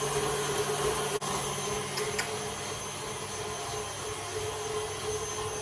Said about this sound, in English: Let's give that a good whisking.